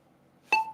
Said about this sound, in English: I'm going to set it right now at around 55 beats per minute.